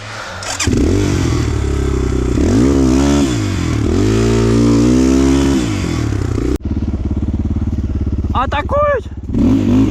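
A Kovi 250 Advance enduro motorcycle engine runs loud and close, running poorly, revving up and down in surges, with a sharp cut partway and a brief higher whine near the end.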